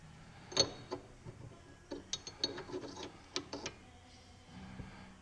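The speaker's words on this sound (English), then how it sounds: "Next thing I was going to do is put the ratchet mechanism on." Small metal parts click and ratchet as a pawl mechanism is fitted onto an Enco 3-ton arbor press, a quiet, close series of irregular sharp clicks and taps with short pauses.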